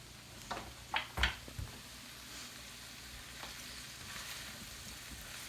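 Smoked kielbasa and potatoes fry in a pan, a quiet steady sizzle with a few brief scraping stirs near the start, no voices.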